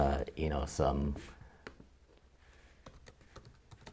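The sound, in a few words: typing on a Mac computer keyboard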